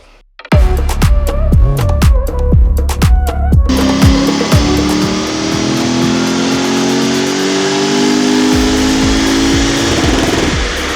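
A Lexus IS-F V8 runs on a dynamometer during a power pull: a few sharp throttle blips, then a loud, sustained rising rev through the gears, close and continuous with no talk.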